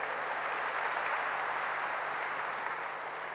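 An audience at a school event applauds children, a continuous even wash of clapping heard from a distance at low volume.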